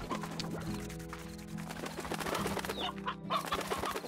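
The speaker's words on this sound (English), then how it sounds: "We don't have that many rock chickens in here." Rock chickens in the video game Slime Rancher cluck and squawk in short bursts, fairly quiet and close, with a busy background hum.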